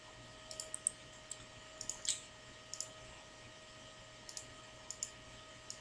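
A computer mouse clicks faintly in a quiet room, with scattered single and double clicks spread over several seconds above a low steady hum.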